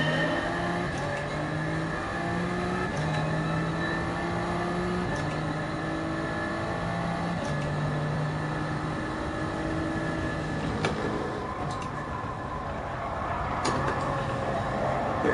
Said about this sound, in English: There is a faster car coming up on the left.